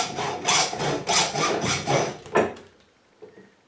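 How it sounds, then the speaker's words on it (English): A tool cuts into an ABUS combination bike lock with a series of rough, rasping strokes, loud and close, before the grinding stops and leaves near silence. "you can also hear it, I believe, more easily cuts into the material"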